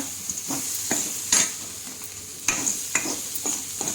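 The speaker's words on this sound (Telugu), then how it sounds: "ఇంకో రెండు నిమిషాలు పడుతుంది ఇది ఫ్రై అవ్వడానికి" Bitter gourd slices fry in a pan with salt and turmeric, a steady soft sizzle broken by several sharp scraping stirs of a spatula, close and moderately loud, with no talking.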